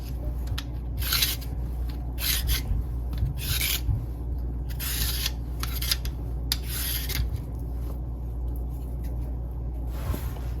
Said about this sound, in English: we're gonna ensure that we take off all of this off the carrot